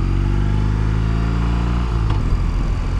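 A BMW R18 motorcycle engine drones loud and close throughout the ride, with a low rumbling tone that shifts slightly near the end and no talking.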